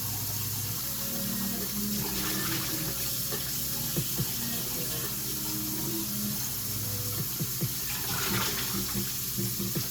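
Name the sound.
rinsing pot with cold tap water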